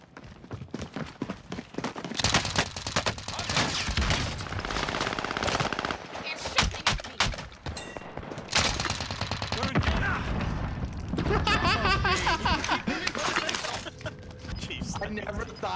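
In a Warzone match, rapid machine-gun fire and single shots crack in repeated bursts at close range. Footsteps and clattering come between the volleys, and a player talks over part of it.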